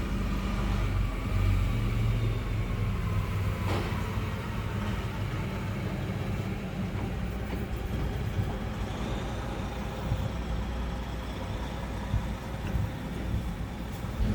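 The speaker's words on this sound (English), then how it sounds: "So we'll see how loud this guy's older Freightliner is when he comes drive by" An older Freightliner semi truck passes by, its engine a steady, loud low rumble with broadband road noise that holds through the whole stretch, with no one talking.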